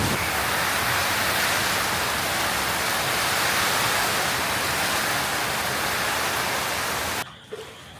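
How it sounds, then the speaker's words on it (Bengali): A heavy night storm pours down with strong wind in a roaring, unbroken wash of rain, loud and close, dropping away abruptly just before the end. "বৃষ্টি বললে ভুল হবে, পুরা ঝড় বৃষ্টি, ঝোড়ো না একেবারে ঝড় বৃষ্টি।"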